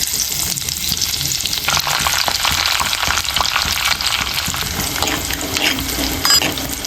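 Chopped onion dropped into hot oil with fenugreek seeds, a loud continuous sizzle with bursts of crackling and stirring, no voices.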